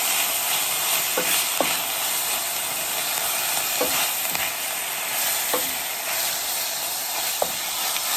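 Callaloo cooks in a pan with a steady hissing sizzle that runs throughout, broken by a few soft scraping stirs at uneven intervals, close and fairly loud with no voices.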